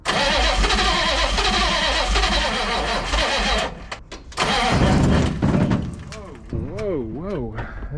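A Chevy K30 4x4 rollback truck's engine cranks steadily, then catches and sputters unevenly as it tries to run, with a voice speaking over it near the end.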